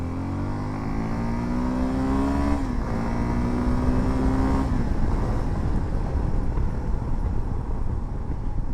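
Suzuki V-Strom 250 motorcycle accelerating on the road, its engine note rising steadily, dipping briefly at a gear change, then climbing again before fading into steady road and wind rumble.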